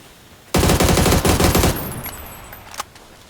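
Rapid automatic gunfire in the PUBG video game rattles out as a dense, loud burst of about a second, followed by a fading echo and one faint later shot.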